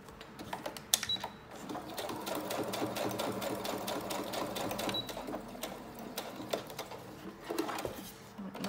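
A sewing machine stitches a number appliqué onto a fabric snippet, a steady rapid mechanical whirr with rhythmic needle clatter running for most of the stretch, close and fairly loud, with brief pauses and faint clicks.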